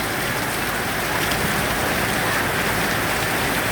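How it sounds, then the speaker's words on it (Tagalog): Heavy rain pouring down during a typhoon, a dense, steady hiss of drops drumming on surfaces, loud and unbroken throughout with no voices. "Ayan, ulan na. Patila ng ulan."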